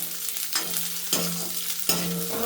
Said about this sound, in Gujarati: શાકભાજી આપણે સુધાર્યા છે તે નાખી દઈશું આપણે ગાજર છે મરચા છે